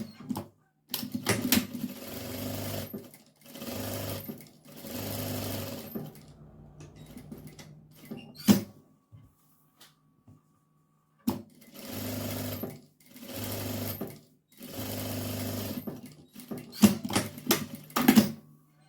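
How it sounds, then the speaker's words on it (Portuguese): A sewing machine runs in repeated bursts of rapid stitching with short pauses between them, sewing a seam to attach a cloth diaper to fabric. Each run is steady and close, and a few clicks and handling noises come between runs. "nós vamos passar aqui uma costura aqui e aqui para prender essa fralda nesse tecidinho."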